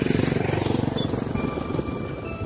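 A motorcycle engine runs close by on a village road in Kebumen, a steady pulsing drone that eases slightly as it moves past, with no talking over it.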